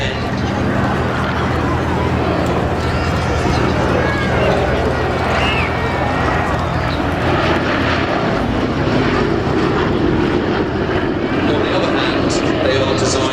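A four-engine B-17 bomber drones steadily overhead at an airshow, its engines a constant rumbling roar, with people talking beneath the noise.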